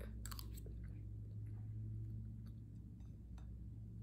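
Someone bites into and chews a coconut cake with pineapple, making soft crunches and chewing sounds close to the mic over a steady low hum.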